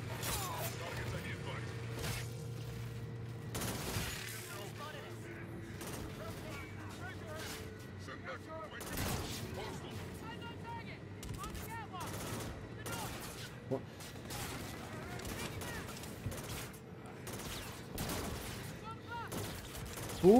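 Video game gunfire crackles in bursts all the way through, fairly faint and distant, mixed with low rumbling mechanical noise.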